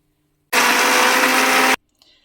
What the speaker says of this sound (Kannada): ಇದನ್ನು ಒಂದು ಸಾರಿ ಗ್ರೈಂಡ್ ಮಾಡ್ಕೊಳ್ಳೋಣ